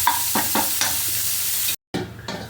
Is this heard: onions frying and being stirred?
yes